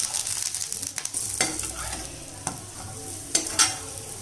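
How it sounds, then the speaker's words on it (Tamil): Sprouted ragi adai fries on a pan and is flipped over, a close sizzling hiss broken by a few sharp scraping and clacking bursts from the spatula, without any talking. "இப்போ இந்த மாதிரி திருப்பி போட்டுக்கோங்க."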